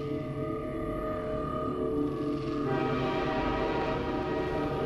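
Train in Half-Life 2 rolling along with a steady droning rumble and sustained tonal hum, dense and continuous throughout.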